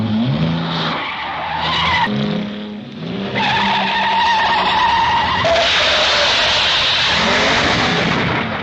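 A car skids with loud, drawn-out tire squeal in a 1962 James Bond film, the screech rising and sweeping against roaring engine noise, close and continuous with no speech.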